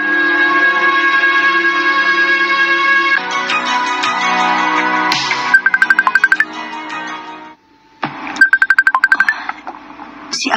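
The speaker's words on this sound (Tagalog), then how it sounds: "Si Akiko nanawag" An incoming call rings on a mobile phone, a loud electronic ringtone melody played close up that repeats in phrases, with a brief gap before the tune starts again with bright, rapid chiming notes.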